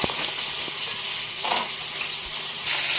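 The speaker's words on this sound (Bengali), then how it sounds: "মাছটাকে আমি একটু কড়া করে ভেজে নিলাম" Fish frying in hot oil for a Bengali sating fish oil-jhal, a steady close sizzle and crackle throughout, swelling briefly midway and growing louder near the end, with no voices.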